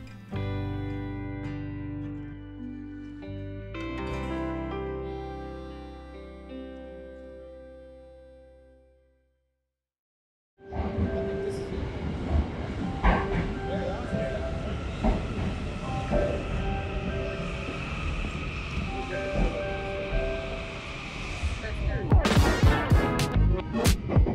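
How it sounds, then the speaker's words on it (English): A Chuo line commuter train in Tokyo rolls along with a steady rumble and rattle, brakes or wheels squealing briefly near the end; calm tonal music plays before it. "we take the Chuo line to Tachikawa, incidentally our first train journey of our trip"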